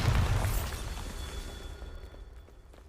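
Bombarda explosion spell in the Hogwarts Legacy video game bursts with a single loud blast at the start, a brief crackling shatter that fades into a decaying rumble.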